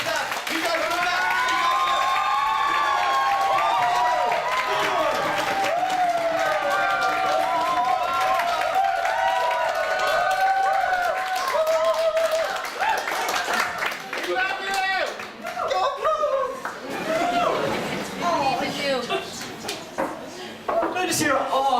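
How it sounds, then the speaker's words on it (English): A comedy-show audience claps together, a dense, steady wash of applause that carries on for about twenty seconds, slightly uneven and thinning toward the end, with no talking over it. "Start clapping."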